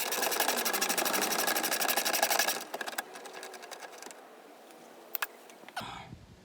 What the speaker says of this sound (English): You just have to be able to hold the bolt from the back side underneath while you take it off.